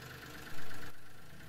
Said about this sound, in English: Okay, I rev it up again.